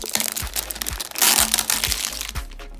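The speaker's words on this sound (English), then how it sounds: "peel this label back" A label being peeled and torn off a recycled PET plastic bottle, a close series of crinkling, crackling rips with short scraping bursts and plastic flexing.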